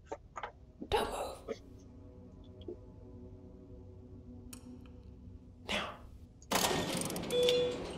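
Mechanical ratcheting and grinding of a moving mechanism in the Dr Langeskov video game, scattered clunks and clicks through a quiet stretch, then a louder, sustained rattling rumble near the end.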